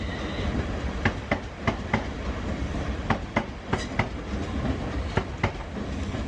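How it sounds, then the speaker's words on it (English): A London Euston train at a station in Crewe rumbles loudly, its wheels beating out an irregular clickety-clack over rail joints under a constant heavy roar, with no one speaking. "London Euston train."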